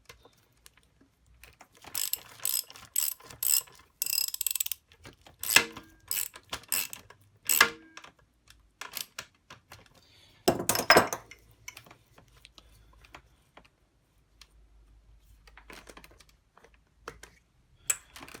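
A 19 mm spanner working the axle nut on a Mountain Buggy Urban Duo stroller's front wheel, giving bursts of quick ratcheting clicks and metallic ticks with gaps between, close and fairly quiet.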